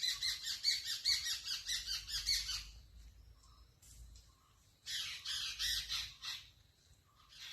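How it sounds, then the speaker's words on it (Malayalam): Birds squawking and chirping noisily in trees around a home, with crow-like calls in two loud bursts separated by a quieter stretch; no people talking. "ഒരുപാട് അണ്ണാനും കിളികളും ഒക്കെ കലപില വയ്ക്കുന്ന ശബ്ദങ്ങൾ കേൾക്കാം"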